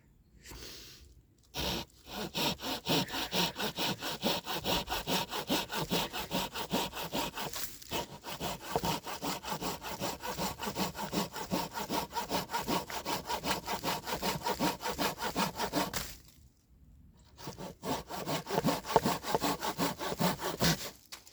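A Silky pocket folding saw cuts through very dry hardwood in quick, even back-and-forth strokes. It rasps steadily up close, with two short pauses, one near the start and one near the end, before the sawing picks up again.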